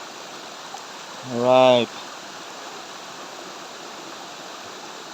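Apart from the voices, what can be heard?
waterfall at Laguna Pangil falls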